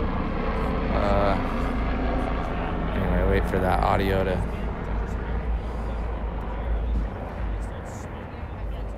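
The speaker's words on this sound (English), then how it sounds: "We got some helicopter movement there." A helicopter's steady rotor drone hums in the background over a refugee tent camp at a California Walmart while someone talks over it, the aircraft noise lingering as the voice fades.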